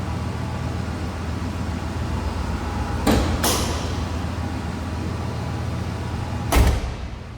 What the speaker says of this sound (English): Long door closes nicely.